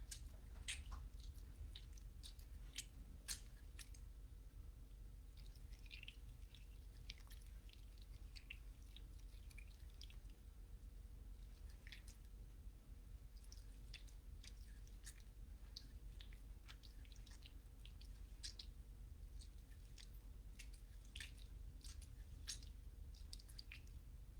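Sticky homemade bouncy-ball mixture squished in hands, faint wet squelches and small sticky clicks scattered irregularly over a quiet, steady background.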